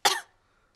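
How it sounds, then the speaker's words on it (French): A single short cough, close and fairly sharp, fading quickly into silence. "Mais regardez ce qui se passe quand je tousse."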